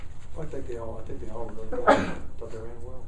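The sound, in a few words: sneeze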